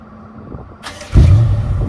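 BMW M550i xDrive started remotely: quiet background, then about a second in the engine catches with a loud low rumble that settles into a steady idle.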